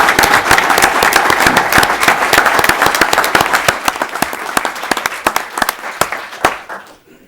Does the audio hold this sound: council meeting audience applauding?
yes